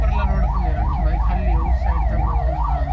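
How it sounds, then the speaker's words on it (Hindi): An ambulance siren wails in a Delhi traffic jam, its rising and falling tone repeating rapidly and loud over a low rumble of idling vehicles. "एम्बुलेंस रास्ता दो भाई"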